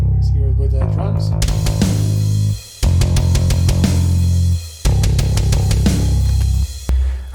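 A heavy MIDI bass VST and programmed drums play a riff together, loud and punchy with crisp cymbal and snare hits and brief drops between phrases.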